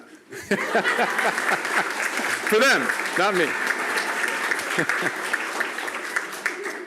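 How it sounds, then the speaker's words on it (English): Audience applause at a paralegal program graduation ceremony, a sustained round of clapping from a seated crowd, with people speaking and calling out over it. "You can clap."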